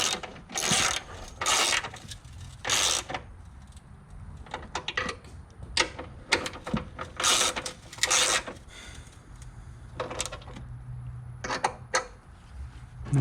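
Ratchet wrench clicking in repeated bursts while bolts of a Cobalt dual hood lift are cinched down on a 124 Spider/MX-5 ND, close and fairly loud, with short pauses between the runs of rapid clicks.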